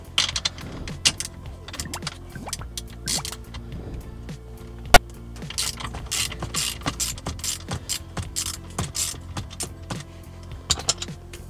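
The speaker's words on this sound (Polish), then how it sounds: "Zaczniemy sobie od wykręcenia tej śruby." A ratchet wrench loosens a 12 mm bolt on a Mitsubishi gear shift linkage, giving close, irregular bursts of sharp clicking and metallic ticks with short pauses between strokes.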